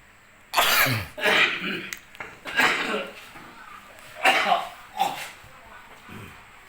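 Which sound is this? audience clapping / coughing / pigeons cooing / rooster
coughing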